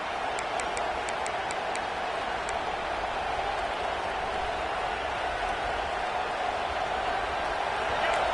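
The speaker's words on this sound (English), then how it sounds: "This crowd, full throat, splitting the eardrums and letting them know it's going to be a long day" A huge stadium crowd roars without letup at a South Carolina versus Missouri college football game, a dense, steady wall of noise with a few faint clicks on top.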